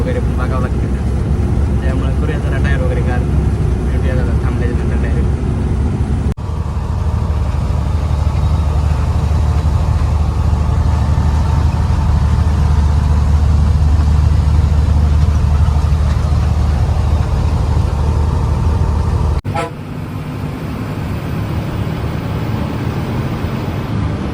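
A truck rolls along on a long highway trip from Maharashtra toward Bengaluru, its engine and road roar holding a low, steady drone from inside the cab, with an abrupt shift in tone partway through and a slight drop near the end.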